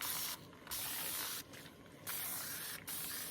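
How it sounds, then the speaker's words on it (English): Close aerosol spray paint hitting a board in three bursts, each a steady hiss lasting about a second, separated by short pauses. "Spray our checkerboard."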